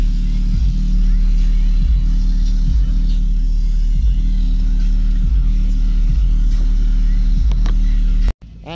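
A truck engine at a spring car show at Richmond County Airport in North Carolina rumbles loudly and close, with regular throbbing pulses about once a second before cutting off abruptly near the end.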